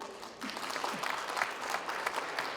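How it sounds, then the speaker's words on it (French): Audience applause at an art exhibition, a steady wash of many hands clapping from a room full of people, starting abruptly after a short pause and holding at moderate loudness throughout. "Je vous demande d'applaudir."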